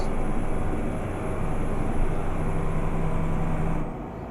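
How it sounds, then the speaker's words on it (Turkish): A truck engine in the Euro Truck Simulator 2 video game drones at a steady highway cruise with road rumble beneath, a constant close hum that eases off slightly at the end. "Yani tamamıyla arabanın şu anda kendi sesini duyuyorsunuz."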